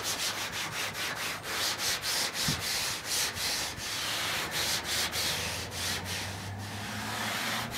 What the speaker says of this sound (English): It's just as easy as wetting your rag and rubbing down the panel.